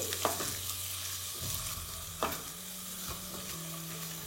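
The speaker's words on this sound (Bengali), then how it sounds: "তেলটা একটু গরম হয়ে গেলে আমি এখানে দিয়ে দেবো 1 চা চামচ গোটা জিরে, তারই সাথে 2 চা চামচ রসুন কুচি" Whole cumin and chopped garlic frying in hot oil over low flame make a continuous bright sizzle with occasional stirring scrapes, while a low steady tone hums underneath.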